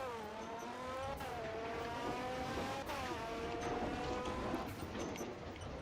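A Porsche with a V6 engine in a video game drives steadily, its engine tone rising through the gears in clear upshift sweeps over constant tire and road noise, loud and close with no talk.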